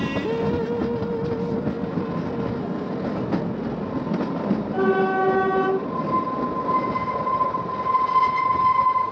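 A train on the Kalka-Shimla mountain railway in the Himalaya rolls with a steady rumble and rattle. Its horn sounds a couple of times over the running noise.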